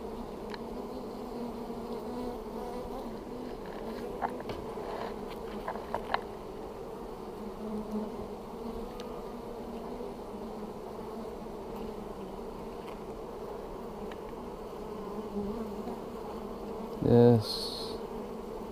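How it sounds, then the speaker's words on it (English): Honey bees from a package being installed into a hive buzz steadily and close throughout, with faint handling clicks and a brief louder knock near the end. "These bees look very happy with her."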